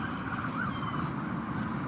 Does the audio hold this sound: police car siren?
yes